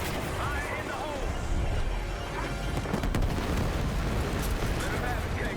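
A grenade explodes in the Call of Duty Black Ops 6 campaign, a dense, loud roar with a sharper burst partway through, set amid continuous battle noise and voices.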